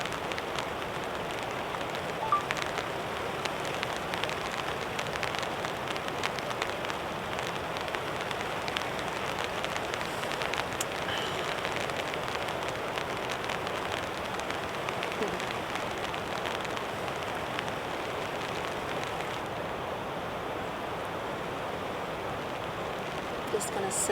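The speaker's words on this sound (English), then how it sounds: "We'll be able to listen to the rain for quite a long time. It's very light." Light rain falls steadily on a campsite in a lush New Zealand mountain valley, a soft, even patter of drops that continues unbroken and fairly faint throughout.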